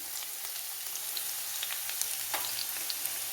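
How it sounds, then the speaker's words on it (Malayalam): Garlic and ginger frying in oil for mango pickle, giving a steady close crackling sizzle with scattered small pops throughout, heard alone. "ഇഞ്ചി വെളുത്തുള്ളി ഒന്ന് മൂത്ത് വരട്ടെ."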